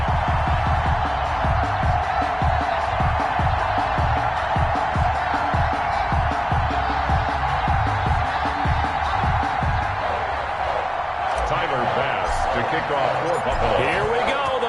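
Stadium crowd noise from an NFL video game broadcast of a Buffalo Bills versus New England Patriots final-week matchup, a steady loud roar with rhythmic thumps underneath, continuous throughout.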